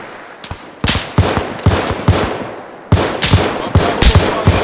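Loud, close gunfire rings through a forest battle in ArmA 3 with the IFA3 mod: sharp single shots and rapid volleys in two clusters, echoing briefly between bursts.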